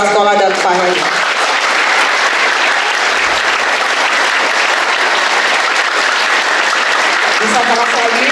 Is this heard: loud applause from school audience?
yes